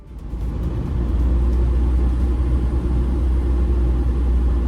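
A Jeep TJ Wrangler with a swapped TDI diesel engine driving, its low engine drone and road rumble steady and loud inside the cab, without talk.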